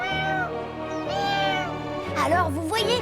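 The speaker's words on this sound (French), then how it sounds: "le pauvre chaton a tellement peur qu'il peut pas s'empêcher de pleurer" Cartoon kitten crying in a fire-safety episode of Robocar POLI, a series of loud, close, wavering high-pitched meows and wails that rise and fall, ending in shakier sobbing cries.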